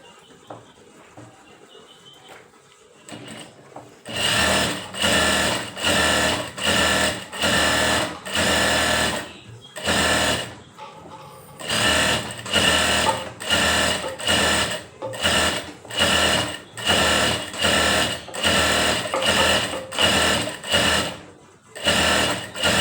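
A sewing machine runs a double stitch on a Punjabi dress, starting after a few quiet seconds and then whirring loudly in repeated bursts separated by short pauses, with no speech.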